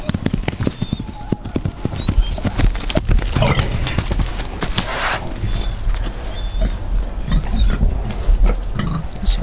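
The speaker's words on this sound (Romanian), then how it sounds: "Ia porci." Pigs grunting on a Romanian farm smallholding in October, a dense, steady stream of snorts and grunts with some hoof-like knocks and stirring livestock filling the whole stretch.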